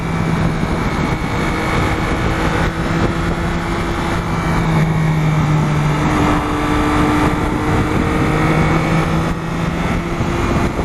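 A motorcycle engine drones steadily while riding, with rushing wind noise, its pitch shifting slightly as the ride goes on.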